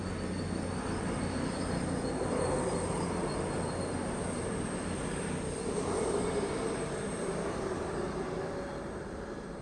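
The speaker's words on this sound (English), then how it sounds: "13:30 cross-country service from Glasgow Central to Plymouth. With former Avanti West Coast 221 109." A former Avanti West Coast Class 221 diesel unit, 221 109, on a CrossCountry Glasgow Central to Plymouth service at Derby, giving a continuous engine rumble with a high whine, steady and fairly near, slowly easing at the end.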